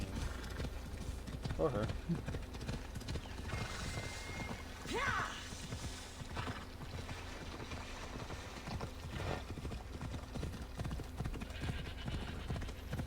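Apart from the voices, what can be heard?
horse hooves clip-clopping in video game Assassin's Creed Odyssey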